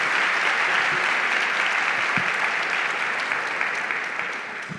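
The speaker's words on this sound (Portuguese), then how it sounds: "Uma salva de palmas para eles." Audience applause fills a church service, a steady dense wash of many hands clapping that fades slightly toward the end, with no talking over it.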